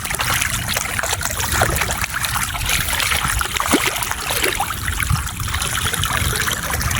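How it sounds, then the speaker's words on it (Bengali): Floodwater drains out of a flooded paddy field through a cut in the earthen embankment, a steady close trickling and gurgling flow with small splashes, no talk. "দেখো কীভাবে জল নামছে"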